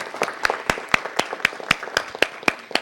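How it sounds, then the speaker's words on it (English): Scattered applause from a small group at a council meeting, a handful of distinct sharp claps spaced irregularly, fairly close and modest in volume. "Let's everyone give them a round of applause."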